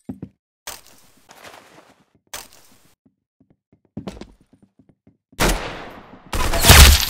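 Gunfire in the Roblox game Arsenal comes as several sharp bursts separated by near-silence, ending in two loud, dense volleys, with faint clicks and thuds between shots.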